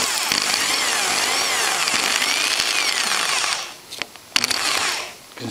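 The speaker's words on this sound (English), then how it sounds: "I've got the drill, that's my drill in there." A loud power drill grinds steadily into a broken bolt in a Honda GX160 engine block, with a harsh high-pitched whine, then slows and stops briefly before short bursts resume.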